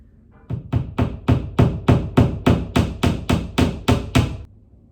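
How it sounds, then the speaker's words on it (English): Steel nails are hammered into a wall, about a dozen sharp, evenly spaced blows in a steady rhythm, close and clear with no talk. "I have these nails that I'm gonna hammer into the wall"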